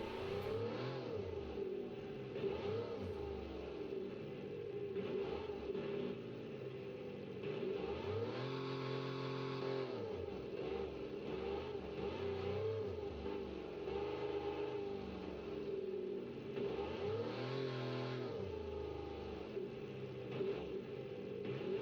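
A car engine in the BeamNG driving game revs up and down repeatedly on a handling circuit, rising and falling pitch sweeps with steady loud drone throughout, no talking.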